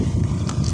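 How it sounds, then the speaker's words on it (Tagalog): Strong wind at sea buffets a small fishing boat, a brief rough roar of gusts on the microphone with no voices. "Ang lakas ng hangin."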